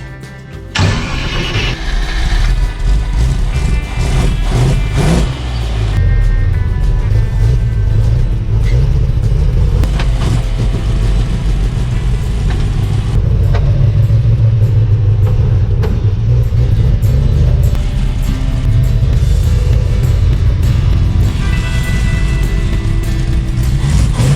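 Engine of a home-built car called the hook, running rich on its first drive, with no brakes and a makeshift clutch: a loud, close rumbling engine that idles, revs and pulls away continuously, with rattles and clatter over the drone.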